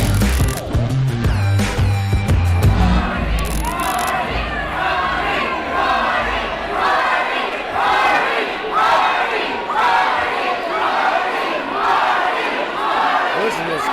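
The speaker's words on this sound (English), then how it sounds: "Listen to this crowd." Loud, dense roar of a wrestling event crowd cheering and chanting in rhythmic waves after a cage match escape, with heavy impacts and commotion near the start.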